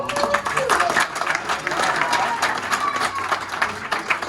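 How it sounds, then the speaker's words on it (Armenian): An audience claps steadily, a dense patter of many hands filling the room, with a voice heard through the applause. "խնդրում ենք ծափահարենք իրա"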